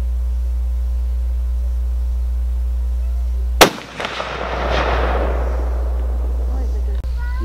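A single loud gunshot at an outdoor shooting range cracks out sharply and rolls away in a long echo, over a steady low electrical hum.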